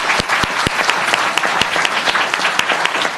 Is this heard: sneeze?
no